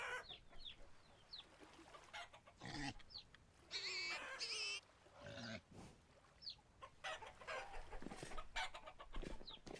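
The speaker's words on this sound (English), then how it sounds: "Where's that random hen that I found?" A hen in the video game Vintage Story clucks in short repeated calls, soft and faint, with other bird chirps scattered around it.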